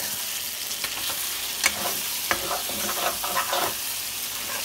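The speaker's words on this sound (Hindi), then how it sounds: "हमारा जो चिकन है गाइस इस तरफ भून गया है।" Chicken pieces fry in a pan during village-style cooking, with a continuous close sizzle and irregular sharp clicks and scrapes from stirring, fairly loud and alone without any speech.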